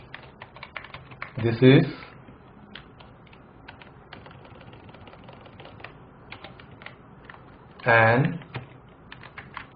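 Steady light clicking of typing on a computer keyboard during a LaTeX tutorial, running quietly throughout beneath two short bursts of someone speaking.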